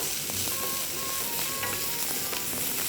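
Peeled potato pieces, cut bite-sized and soaked in water to remove starch, fry lightly in a pan for jajangmyeon: a steady close sizzle with soft scattered stirring clicks throughout, no voices.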